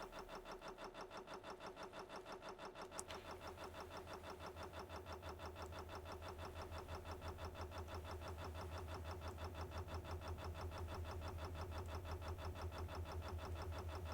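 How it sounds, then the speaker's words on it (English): Boat engines in the Stormworks video game start up and settle into a steady, rhythmic mechanical chug that slowly grows louder and denser, a continuous low drone with no talking. "I can kind of hear the engine starting to engage"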